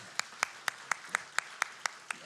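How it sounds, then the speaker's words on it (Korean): A church congregation claps during a Sunday worship service, a steady rhythmic beat of sharp unison claps about four per second, moderately distant and fairly quiet over a soft room hiss. "우리 축복의 박수 하도록 하겠습니다."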